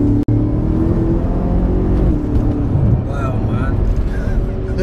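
A 1000bhp BMW F10 M5 accelerates hard in a sustained pull, its engine a loud continuous roar rising in pitch while people talk over it inside the car.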